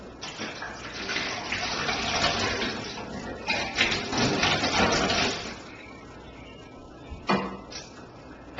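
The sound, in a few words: water being dumped out of a soda bottle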